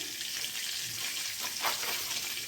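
Mustard seeds and cumin sizzle steadily in hot oil, a dense, even crackle that stays close and fairly loud throughout, with a brief louder burst of spitting near the middle and no voices.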